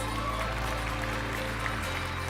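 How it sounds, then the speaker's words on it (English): An audience applauds the judges at a Miss Universe 2015 preliminary competition, a steady wash of clapping from a large crowd. "Now let's give another round of applause for our judges."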